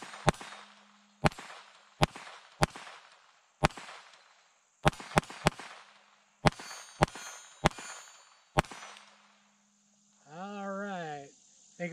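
A Taurus TX22 pistol firing .22 rounds in uneven succession, sharp loud cracks with a ringing tail, some in quick pairs, followed by a short burst of speech at the end.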